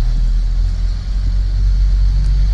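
A songthaew, a shared pickup-truck bus in Chiang Mai, rumbles with a steady, close, low engine drone that holds at an even level throughout.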